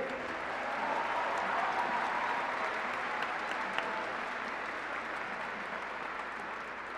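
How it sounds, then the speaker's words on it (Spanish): A congregation at a Tuesday Mass claps for the San José Seminary in strong, sustained applause that holds at an even level throughout, with a faint murmur beneath. "Un fuerte aplauso para nuestro Seminario de San José"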